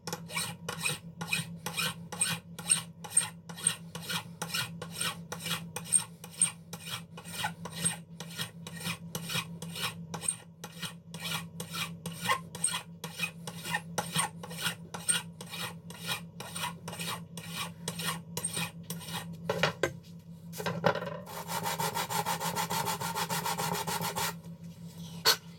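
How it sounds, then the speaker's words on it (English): Rhythmic rasping strokes of a metal file working around the threads of a custom lightsaber hilt, dozens of even swipes in steady succession, close and alone, ending in a brief burst of a different, denser scraping. "let's go 40 swipes of the file"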